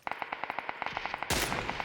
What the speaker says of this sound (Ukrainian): По ньому хтось стріляв.